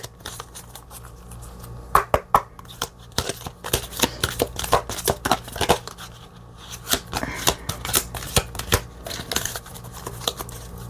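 Oracle cards being shuffled by hand, a run of crisp riffling flutters and taps, some quick bursts and others spaced apart, close and fairly loud over a quiet room with no talking.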